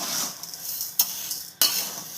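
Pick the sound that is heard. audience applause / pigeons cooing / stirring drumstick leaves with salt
stirring drumstick leaves with salt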